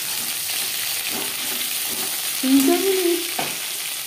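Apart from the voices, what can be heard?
frying pointed gourd (potol) in a pan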